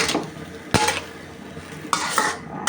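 Vegetarian instant noodles with egg and vegetables are stir-fried in a pan, with utensil scrapes and clinks against the pan in a few bursts over a soft sizzle.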